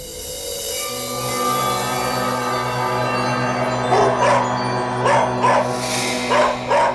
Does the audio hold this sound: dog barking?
yes